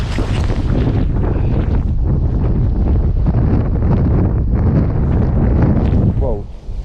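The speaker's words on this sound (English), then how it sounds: "this is so hard with the wind blowing" Strong outdoor wind buffets a camera microphone on an autumn nature walk, a loud continuous rumbling roar filling the whole clip with no clear speech.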